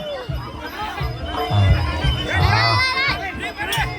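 Crowd at a Thai boxing (Muay Thai) bout in the fourth round, a dense mass of shouting and cheering voices with rising yells near and far, swelling loudest mid-clip over a steady babble.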